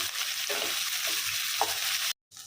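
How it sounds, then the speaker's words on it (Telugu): Onions and whole green chillies sizzling in hot oil in a pan, a dense close hiss broken by a few scraping stirs, ending in a brief cut to silence; no talking. "ఇలా ఉల్లిపాయలు బ్రౌన్గా అయ్యే వరకు వేయించుకోవాలి."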